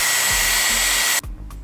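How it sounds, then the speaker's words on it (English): A blow dryer blasts air on a wig being styled into a 90s updo, a loud steady whoosh that cuts off abruptly near the end, leaving brief quiet with faint handling sounds. "Then we're gonna go in with a blow dryer."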